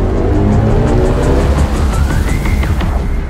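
A BMW i4 M50 electric car drives past at speed, giving a steady loud whir with a rising electric whine and road and tyre noise throughout.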